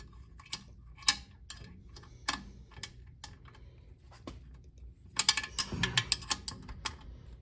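Sparse metallic clicks of a ratchet wrench turning on a GM Saginaw billet power steering pump in a garage, isolated ticks at first, then a quicker burst of ratcheting.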